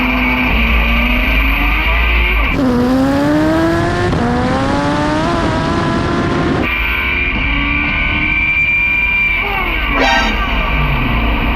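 Front-wheel-drive race car accelerating hard through all four gears, the engine note climbing and dropping at each shift, loud and close throughout.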